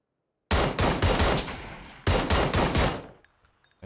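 Two bursts of rapid automatic gunfire in PUBG on the Miramar desert map, each a dense rattling volley lasting over a second, loud and close, ending in a faint tail.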